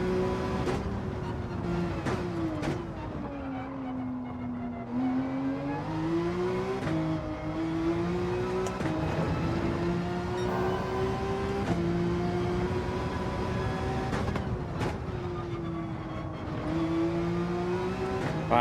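A Porsche race car engine in Gran Turismo 7 drones steadily through a lap on hard tyres, its pitch rising and falling with shifts and corners, loud and continuous with no talking.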